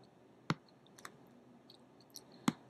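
A computer mouse clicking a link on a course website: two crisp, sharp clicks about two seconds apart, close and fairly quiet, with faint softer ticks between them and no talking.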